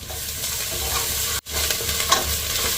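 Onion and ginger-garlic paste fry in a pan for ghee rice, giving a steady close sizzle with stirring scrapes throughout and one brief break partway.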